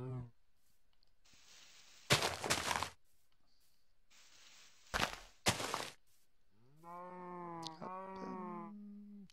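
Cows in an enclosure in a block-building video game give a few drawn-out moos near the end, after bursts of block-placing clicks and noise, with no talk over them.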